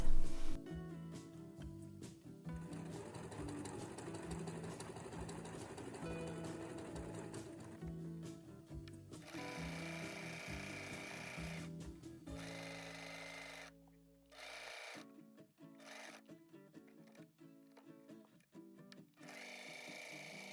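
A sewing machine stitches around a trouser pocket in a steady mechanical whirr, broken by brief stops and restarts, with the final stretch made of short, choppy bursts.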